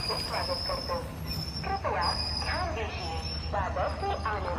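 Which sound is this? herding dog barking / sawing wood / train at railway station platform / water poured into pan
train at railway station platform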